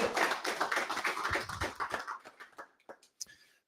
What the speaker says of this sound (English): can we just give Enrique a round of applause?